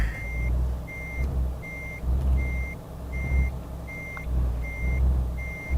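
A Renault Premium truck reverses a trailer in Euro Truck Simulator 2, its backup alarm giving regular evenly spaced beeps, about nine in all, over a low diesel engine rumble.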